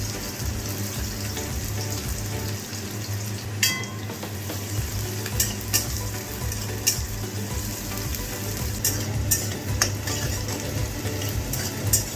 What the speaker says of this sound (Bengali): প্রথমেই আমি বেরেস্তাগুলোকে ভেজে তুলে রাখবো